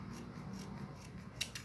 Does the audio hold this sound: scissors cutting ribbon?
yes